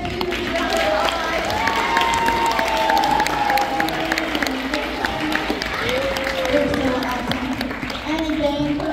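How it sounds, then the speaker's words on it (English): An audience at a school academic excellence awards event gives teachers a big round of applause, with steady clapping mixed with cheers and lively crowd chatter, and people talking throughout. "Can we give them a huge round of applause?"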